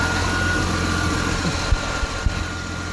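Ford Five Hundred engine idling with its exhaust leak clamped off, a steady close rumble with a couple of brief low thumps near the end, no voices.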